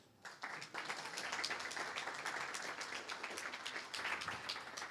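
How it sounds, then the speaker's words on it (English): Audience applause breaks out at a programming language conference for Attila, a steady crackle of many hands clapping at moderate volume, starting abruptly and holding for several seconds. "Attila can have a round of applause too"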